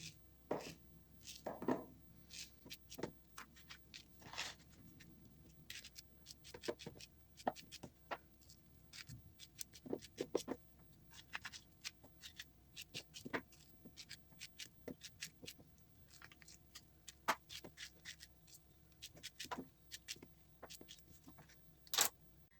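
A knife chops peaches into cubes repeatedly on a cutting board in quick, irregular taps, close and fairly quiet, with small pauses between bursts.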